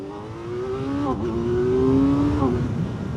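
A 2025 Kawasaki Z900 SE inline-four motorcycle engine pulling away from a stoplight, revving up steadily with brief dips at gear shifts, loud and close with wind noise, no talking.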